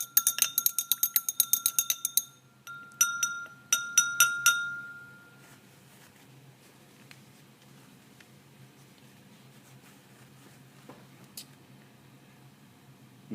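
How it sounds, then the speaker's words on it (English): A glass stirring rod clinks against a glass beaker holding water and vegetable oil, giving a quick run of bright, ringing taps followed by a few more scattered clinks, then quiet stirring. "And now as we stir with the glass stirring rod"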